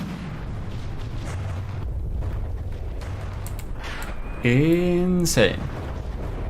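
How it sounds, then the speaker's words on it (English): Heavy booming shell fire and blasts from HESH frag rounds in the naval combat game From the Depths, a dense rumbling barrage with a brief tonal whine near the end, under a commentator's voice. "Shooting some shorter Hesh frag explosives."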